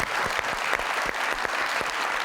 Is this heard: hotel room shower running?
no